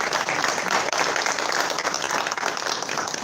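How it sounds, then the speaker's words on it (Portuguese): A church congregation in Fortaleza claps together in worship, a lively, fairly loud wash of many hands with some individual claps standing out. "Uma salva de palmas ao Senhor Jesus."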